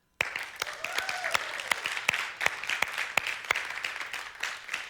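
An audience claps after a sudden start, the sharp hand claps uneven and fairly close, with a faint voice rising briefly under them.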